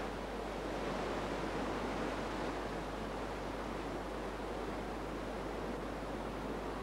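Fast-flowing river water on a canoe slalom course rushes in a steady, even hiss, fairly faint and unbroken, with no voices over it.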